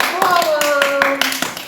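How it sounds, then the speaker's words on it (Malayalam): A small group claps hands in quick, fairly even beats to cheer between rounds of a playful eating challenge game, with voices, including a child's, sounding over the applause. "അപ്പൊ നമുക്ക് നല്ലൊരു കയ്യടി കൊടുത്തിട്ട് നമുക്ക് അടുത്ത റൗണ്ടിലേക്ക് പോവാം."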